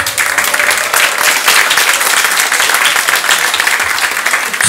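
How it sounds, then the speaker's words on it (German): Sustained applause from a studio audience at a German comedy show, dense steady clapping filling the whole stretch at a loud, even level with no voices over it. "Einen herzlichen Applaus"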